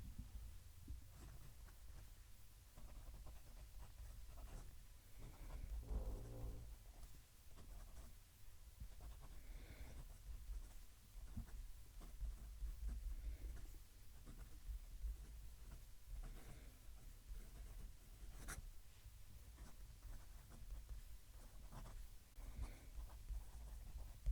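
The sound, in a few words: gold-nibbed fountain pen writing on paper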